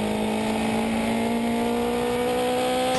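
A race car held at full throttle through the very quick Dingledale corner at Brands Hatch in fourth gear, during a 2012 Britcar Championship round, its engine droning steadily and loudly close up for the whole stretch with no talk.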